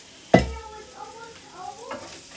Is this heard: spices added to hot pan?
yes